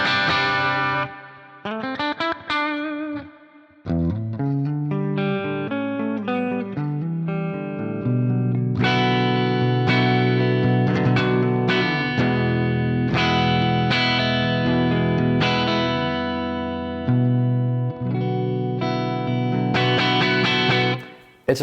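A Harley Benton SC-1000 electric guitar plays a medium-crunch, mildly distorted tone through effects, strummed chords and single notes ringing out loud and continuous, with one brief break near the start.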